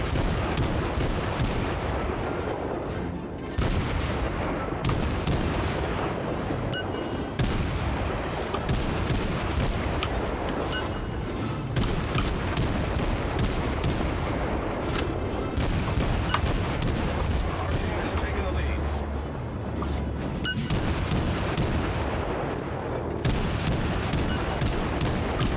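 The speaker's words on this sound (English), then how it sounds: "Whew, narrowly dodged those shots." Naval artillery in a World of Warships naval battle booms again and again, dense overlapping cannon blasts and rumbling salvos that fill the whole stretch loudly with barely a pause.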